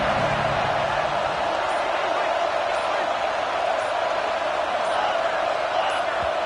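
Roaring crowd noise at a Texas A&M versus Ole Miss college football game, a loud, steady wall of cheering and yelling that fills the stadium and holds without a break.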